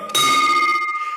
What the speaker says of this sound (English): Fred Morse rings the bell for the illustrious seven.